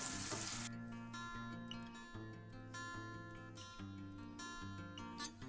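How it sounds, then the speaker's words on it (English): Finely chopped tomato sizzles in a pan with turmeric and curry leaves while being stirred for Goan prawn curry; a loud hiss opens the clip, then a softer sizzle continues under steady background music. "Keep stirring till the tomato is soft"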